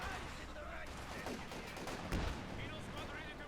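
A single anti-tank gun shot in Company of Heroes 2, fired at a Panzer IV, lands among continuous dense battle noise, with a sharp loud crack near the two-second mark.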